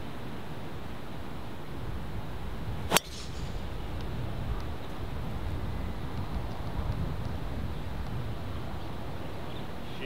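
Steady wind rushes and buffets the microphone throughout on a Hawaii golf course, broken by one sharp crack early on.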